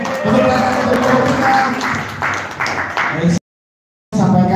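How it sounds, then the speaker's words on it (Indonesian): A seminar audience claps for a group, a loud burst of mixed clapping and crowd noise with some voices, cutting off briefly before resuming. "Tepuk tangan untuk kelompok"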